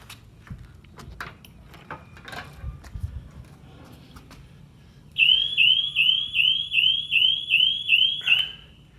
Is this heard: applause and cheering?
no